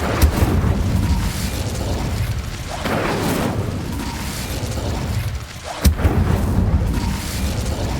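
Incendio fire spell cast in Hogwarts Legacy: rumbling, roaring blasts of flame with low booms, one sharp burst near the end before the fiery rumble resumes, loud and without talk.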